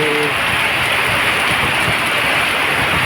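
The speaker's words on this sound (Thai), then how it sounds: "ตกหนักด้วยครับ ไม่ได้ตกเบาครับตกหนักด้วย" Heavy rain pours down steadily in Bang Khae, Bangkok, a dense, loud hiss of water with no breaks, filling the whole moment.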